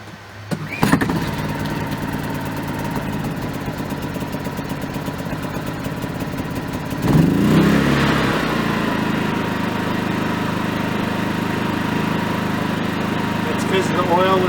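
A Craftsman 3000i inverter generator is pull-started with the choke on and eco mode off, a sharp start followed by a steady, close running drone that swells louder midway and keeps humming evenly.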